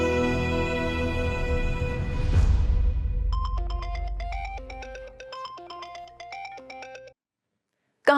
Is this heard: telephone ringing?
yes